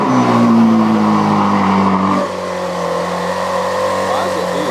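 A car engine, a Chevrolet Camaro ZL1 1LE, revs loudly at first, holding a high droning pitch, then settles abruptly into a lower, steady idle rumble that continues to the end.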